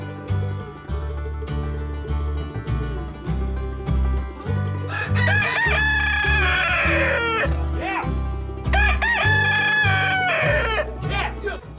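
Rhode Island Red hens cluck and a rooster crows loudly and close by in a chicken run. A pulsing mechanical hum runs underneath, with bursts of crowing and busy clucking throughout.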